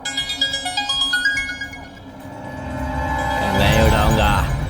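A mobile phone ringtone plays a rising melodic pattern of repeated electronic tones, loud and close, then gives way to a swelling musical passage; no one speaks over it.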